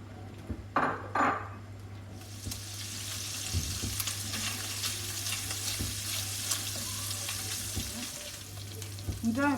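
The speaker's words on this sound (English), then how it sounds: "we'll start to fry the bacon off" Bacon fries in a little oil in a pan. After a few knocks, a loud, steady, crackling sizzle begins and continues throughout, with light utensil scrapes.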